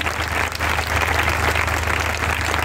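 Applause from a crowd on a ground at an outdoor Christian prayer meeting, a brief, steady patter of many hands heard over a constant low hum.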